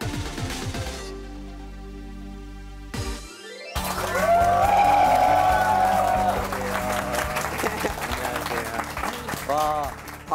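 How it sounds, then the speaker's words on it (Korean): A lecture hall audience breaks into loud, sustained applause that swells to a dense roar of clapping, preceded by amplified sounds from the stage. Faint voices come through along with the clapping. "이렇게 막 크게 박수를 해주니까 너무 좋더라고요"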